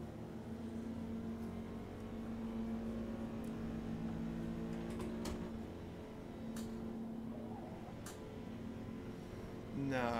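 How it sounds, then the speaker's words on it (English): A race car engine in the Forza racing game drones at a steady, sustained pitch with a rough, buzzing tone, faint and continuous throughout with slight swells. "My car sounds awful."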